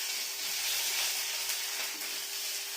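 Ginger sizzles in hot oil with tempered spices and a pinch of asafoetida for a vegetarian potato dum, a steady soft hiss close by, with no talking.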